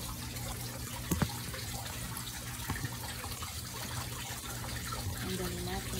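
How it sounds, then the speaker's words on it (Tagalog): Water runs steadily while a backyard fish pond fountain is cleaned outdoors, a continuous trickling wash with a couple of brief knocks and some faint background sounds. "Linisin ko muna ang tubig ng aking fish pond."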